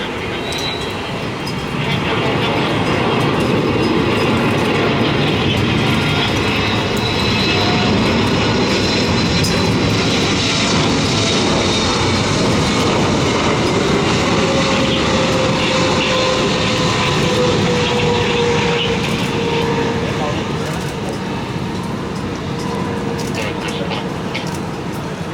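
An EVA Air Boeing 777-300ER lands on runway 25R at Tan Son Nhat airport in the rain, a loud, sustained jet engine roar with a slowly shifting whine that holds steady throughout.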